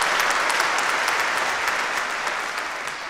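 An audience applauds a performer at a televised music competition, a dense, steady clapping that fades slightly toward the end.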